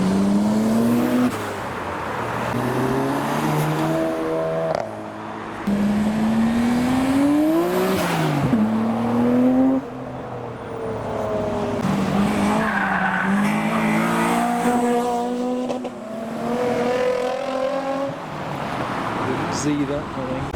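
A Nissan Skyline R32 tuner car speeds up the road arriving at a Japanese car meet in Reading, its engine loud and close with tire noise and rising revs, while crowd voices carry underneath.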